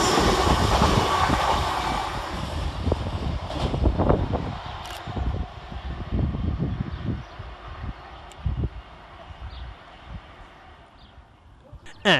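Train 802303, a London King's Cross to Hull service, rushes through Bowes Park station with a heavy rolling roar and rhythmic clickety-clack over the rail joints, loud and near before gradually fading into the distance.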